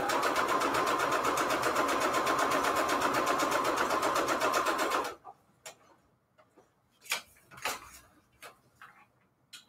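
A sewing machine runs a straight stitch at 3.5 length down the folded edge of a book-page pocket for a junk journal, whirring steadily and close for about five seconds before stopping, followed by faint handling clicks.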